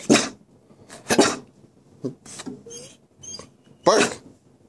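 A dog close by makes several short, breathy huffs and squeaky half-barks, spaced out in uneven bursts, never quite a full bark.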